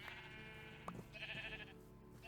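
Sheep bleating in the game TerraFirmaCraft, with a few short bleats over a steady, busy game background at moderate loudness.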